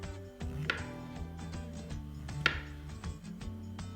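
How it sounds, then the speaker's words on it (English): A kitchen knife slicing a mushroom thinly on a cutting board, a quick series of close, soft taps with two sharper knocks as the blade meets the board, no speech. "just slice down the way as thin or as thick as you'd like them"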